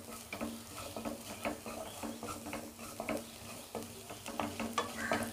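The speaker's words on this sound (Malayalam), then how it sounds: "ഇളക്കി കൊടുത്താൽ മതി." Fish masala for Kerala-style karimeen pollichathu is stirred in a pan: repeated quiet scrapes and clinks of a spoon over a soft frying sizzle, close but low in level, no talking.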